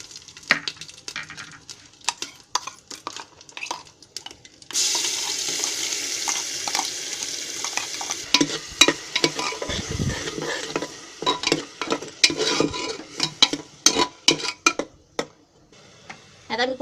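Ginger-garlic paste sautés in oil in a pressure cooker. Clicks and clatter come first, then a sudden loud sizzle starts, broken by scraping and stirring strokes that continue to the end.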